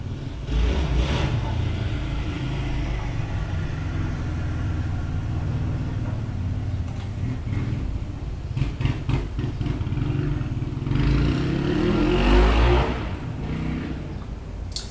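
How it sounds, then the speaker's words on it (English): A motorcycle engine rumbles and revs as it passes, swelling louder twice before fading, with no talking. "Sorry about the motorcycle."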